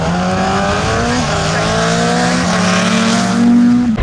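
A rally car at the Cadwell Park Stages roars close by, its engine pitch climbing through the gears and swelling loudest near the end before cutting off sharply.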